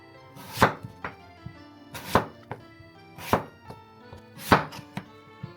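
A knife slices apples into thin slices on a board for an apple cake, four crisp, evenly spaced chops, each trailed by a softer tap, close and clear with no speech.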